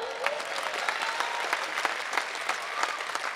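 Audience at an all-India poets' gathering in Bhopal claps in a steady, crowded round of applause, moderately loud with scattered sharper individual claps standing out.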